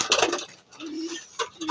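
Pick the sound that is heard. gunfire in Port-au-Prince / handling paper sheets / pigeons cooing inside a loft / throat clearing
pigeons cooing inside a loft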